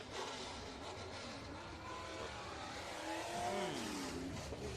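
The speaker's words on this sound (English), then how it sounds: "What you hear in the background is... That's the 111X of Heckman." Race car engine droning and revving at Bakersfield Speedway during heat races, a steady distant roar that rises toward the end, heard alone without talk.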